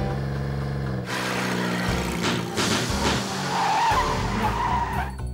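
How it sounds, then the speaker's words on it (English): Car skidding on blown tires in an action film, loud continuous screeching and scraping with engine roar, several abrupt bursts and a rising squeal near the end. "All four tires are blown."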